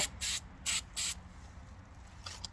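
Three short bursts of an aerosol spray can, then a fainter brief hiss, close up and with no talk, while painting a part during a V8 Jeep CJ5 restoration.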